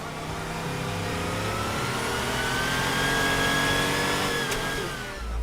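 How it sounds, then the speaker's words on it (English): A Porsche 930 engine recorded for the Cyberpunk 2077 video game, revving in one long, loud, continuous pull with the pitch climbing steadily and easing off near the end. "Porsche 930 that we recorded is the only car really that will be really sounding like the real car in the real world."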